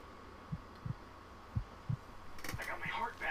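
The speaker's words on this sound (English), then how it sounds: "Can you hear it beating? That's my heartbeat." Game heartbeat from Blood Will Tell: five or six soft, low thumps in an uneven rhythm, fairly quiet, followed by a brief burst of brighter game noise at the end.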